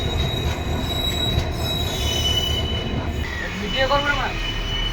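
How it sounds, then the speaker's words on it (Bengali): The East Coast Express, running from Shalimar to Chellapalli, pulls away with a loud, close rumble of wheels on track and sharp metallic squeals rising near the end. "ট্রেন ছেড়ে দিয়েছে"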